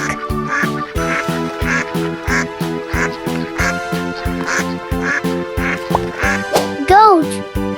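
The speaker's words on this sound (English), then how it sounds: "Duck." A cartoonish duck quacks several times over a bouncy, rhythmic children's music track, with a rising-falling cartoon sound effect near the end; the quacks sit inside the loud, steady beat.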